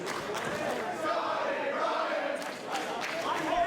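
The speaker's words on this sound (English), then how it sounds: "You can hear already the crowd very strongly behind Scotty Ryan" Wrestling crowd at an EPW Coastal Championship match at Gold Rush 2017 roars steadily and fairly faintly, a dense wash of shouting and cheering with a few louder swells.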